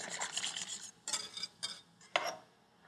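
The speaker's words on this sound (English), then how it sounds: "stir them both together" Spoon scraping and stirring soup in a pot in a kitchen, a few short close strokes rasping against the metal with pauses between them, no voices.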